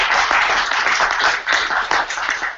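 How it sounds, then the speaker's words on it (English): A small group claps for the speakers at a meetup, a short burst of distinct, close-sounding hand claps with audible individual strikes in an uneven rhythm. "quick round of applause for our speakers"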